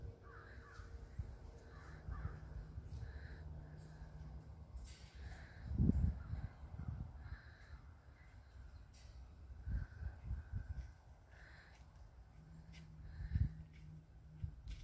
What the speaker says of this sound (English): Getting some bird sounds.